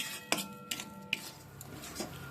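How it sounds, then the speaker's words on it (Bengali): A spoon knocks and scrapes against a metal pot while a milk mixture for pitha is stirred, giving a few sharp clinks at irregular intervals over a quiet background, close and alone. "এবার খুব ভালো করে আমি মিশিয়ে নিচ্ছি"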